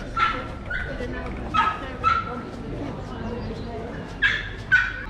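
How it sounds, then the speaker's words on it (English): A dog at the Brixham pirate festival gives several sharp, high yips and barks spread across the scene, moderately near, over a busy outdoor crowd with people talking. "He likes to be heard, this dog."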